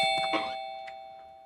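A doorbell at a home front door rings with a bright electronic ding-dong, its sustained tones fading out slowly after the strike.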